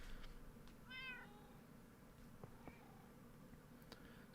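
A Minecraft cat gives a clear meow early on, followed by a softer second mew, set against low game ambience with faint clicks and no speech.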